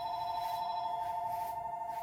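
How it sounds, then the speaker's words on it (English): A telephone rings unanswered at a business closed for the day, a steady electronic ringing tone that fills the whole moment with no voices. "I am not answering my phone because we are not open today."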